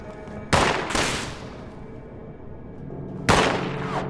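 Two loud gunshots in Fallout 76 Wastelanders, each a sharp blast with a booming tail, separated by a few seconds, with no talk over them.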